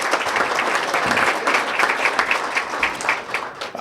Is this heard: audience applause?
yes